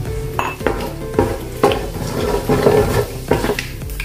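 Cumin and mustard seeds going into hot oil, with clattering metal spoon and pan knocks and a light sizzle beneath, recurring in uneven bursts at close range.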